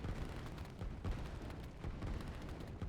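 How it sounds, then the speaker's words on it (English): Continuous low, rumbling artillery shelling of a refinery in the strategy game Line War, dense dull booms blending into a steady distant roar with no talking. "Artillery takes so long to kill a refinery"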